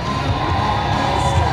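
A crowd at a strongman deadlift event cheers and shouts in a steady, loud, continuous roar that fills the whole moment.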